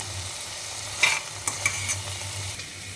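Bitter gourd fry being stirred in a pan with coriander chilli powder: a steady low sizzle with a few spoon scrapes and clinks, close up, and no voices.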